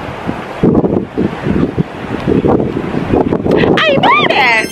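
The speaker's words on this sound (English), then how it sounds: "Now, it's so windy" Gusty wind buffets the microphone as a person talks loudly over it, with a few high squeaky chirps near the end.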